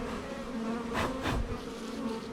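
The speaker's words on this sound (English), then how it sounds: "So you just shake those bees off." Honeybees from a package buzz in a dense, steady drone as they are shaken off a queen cage, with two louder close swells as bees fly near, and no talking.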